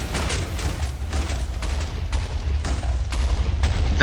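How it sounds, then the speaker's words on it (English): Rapid, repeated TNT cannon blasts from a Minecraft-style game fire in a steady volley of about eight loud booms over a continuous low explosive rumble. "that's our shower of TNT cannon."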